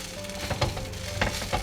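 An egg roti fries on a hot pan, with a steady oily sizzle and a few soft scraping and pressing sounds as it is handled, close and moderately loud with no voices.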